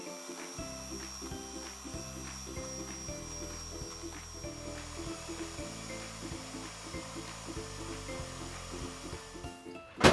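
Cream being whisked in a bowl for homemade ice cream, a steady close whirring drone that pulses rhythmically as the beater moves, running continuously without talk and ending in a brief louder clatter.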